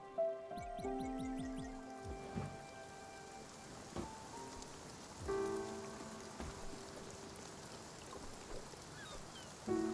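Rain in Spiritfarer: a soft, even patter of falling drops under gentle, chiming musical tones, fairly quiet, with a few brief louder swells.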